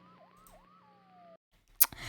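A police siren in the Roblox horror game Midnight Santa wails in rising and falling sweeps, then settles into a steady tone that cuts off abruptly. After a short silence comes a sharp burst of other game noise.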